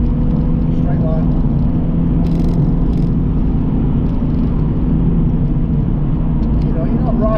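Car engine fitted with a new aftermarket exhaust pipe, held in third gear on a straight road, a steady loud drone throughout with voices talking over it.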